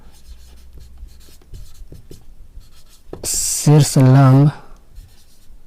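Pen scratches on paper come in short, soft strokes, close up, followed by someone speaking over continued writing.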